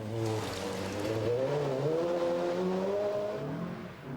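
A Ford Sierra Cosworth rally car driving flat out on a 1988 British national rally stage, its engine droning loudly and rising in pitch as it accelerates, steady and close, then easing off at the end.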